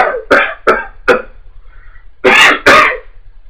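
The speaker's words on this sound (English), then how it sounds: "My lungs was weak, man. You know, I'm coughing." A person coughs several times in short, harsh bursts: three quick coughs, a pause, then two more heavy ones, close and loud.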